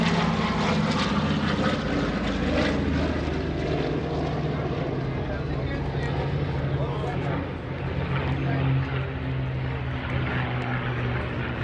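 A Douglas C-47 warbird with radial piston engines and propellers flying at the Greenwood Lake airshow, its loud, steady droning engine roar filling the scene continuously, with someone talking over it.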